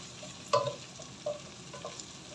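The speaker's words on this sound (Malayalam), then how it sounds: "നന്നായിട്ട് ഇളക്കി കൊടുക്കാം." Semolina upma with raisins is stirred in a pan, giving a few soft, quiet scrapes and light taps over a faint background sizzle.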